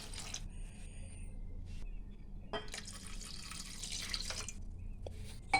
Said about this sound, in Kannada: ಅದಕ್ಕೆ 1-2 ಗ್ಲಾಸಷ್ಟು ನೀರು ಹಾಕ್ಕೊತಾ ಇದ್ದೀನಿ.